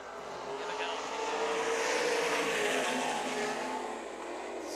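Sprint cars roar past on a dirt oval at an IRA and MSA race, a broad, loud engine drone swelling and fading as the pack goes by at a distance, with a race announcer talking over it.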